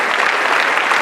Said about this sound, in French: On applaudit pendant qu'elle salue les chefs traditionnels et les officiels